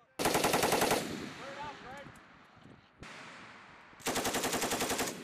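Machine gun bursts on a robotic moving-target range, two loud rapid rattling volleys near the start and end with echoing decay between them.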